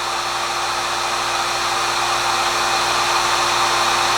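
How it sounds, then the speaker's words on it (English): A heat gun blows hot air near a beehive in winter, producing a loud, continuous whooshing roar with a steady electrical hum underneath and no pauses. "The entire heat gun is getting hot"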